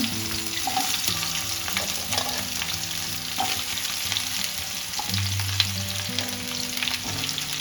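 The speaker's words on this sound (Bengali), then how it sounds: "এই যে জিরেটা ভাজা হয়ে গেছে লতিটা দিয়ে দিলাম" Taro stolons hit hot oil with fried cumin and bay leaves, a loud, continuous sizzle and crackle that stays steady throughout, with light stirring and no voices.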